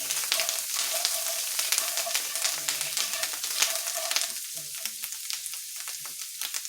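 Garlic sizzles and crackles steadily in a hot pan over medium heat, with soft scraping stirs cutting through the continuous frying hiss, close up and with no voices.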